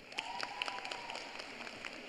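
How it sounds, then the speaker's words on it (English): Applause at a 2023 college commencement ceremony: a faint, distant patter of scattered clapping runs steadily throughout. "He always gets the applause."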